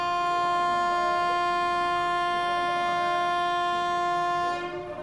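New Delhi–Howrah special train departing, its horn sounding as a long sustained tonal blast that holds steady for several seconds before fading near the end, loud and close.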